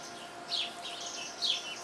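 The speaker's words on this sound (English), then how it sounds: "The red cardinal just joined in" A red cardinal calls in a backyard garden, giving two short, thin chirps about a second apart over a quiet, faintly hissing background.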